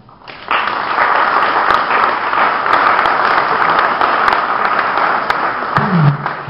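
Loud, sustained audience applause fills the hall for several seconds at the reopening of a small cine-theatre, a steady dense clapping from a crowd that fades slightly near the end.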